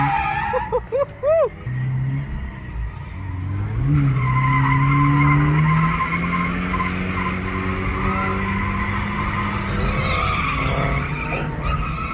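A stock Subaru BRZ drifts on a track with loud, sustained tire squeal and skidding over the engine note, the pitch sliding up and down through long screeching passes.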